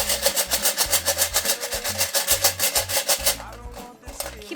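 Tin can holding small pebbles shaken steadily back and forth, a loud rhythmic rattling scrape repeating quickly for several seconds before slowing and stopping near the end.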